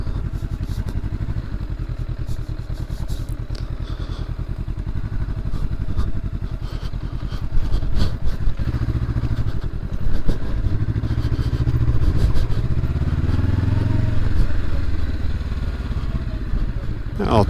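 A 2023 Honda SCL500 Scrambler motorcycle rides over gravel, its mid-pitched engine running steadily up close with loose clattering and occasional thuds from the surface, and a rider talking over it throughout.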